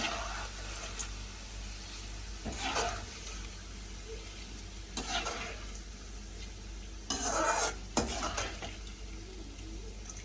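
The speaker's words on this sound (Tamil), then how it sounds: "இது கொஞ்சம் பொன்னிறமாக பொரிஞ்சு வரட்டும்" Raw jackfruit chips fry in hot oil with a steady low sizzle, broken by a few louder bursts of stirring and scraping in the pan.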